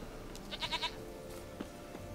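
A goat in The Witcher 3: Wild Hunt gives a short wavering bleat, followed by a fainter second call, heard close over a low game ambience.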